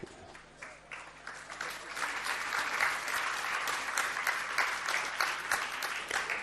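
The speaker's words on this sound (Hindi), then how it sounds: "आपके तालियां मुझे अच्छी नहीं लग रही।" Applause from a sermon audience, a dense, steady patter of many hands clapping that swells slightly and holds throughout at moderate distance, with no voices over it.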